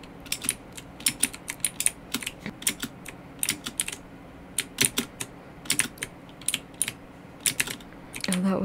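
Rapid typing on a computer keyboard while playing Roblox, bursts of sharp clicking keystrokes in uneven clusters with short pauses, close and fairly loud, no talking.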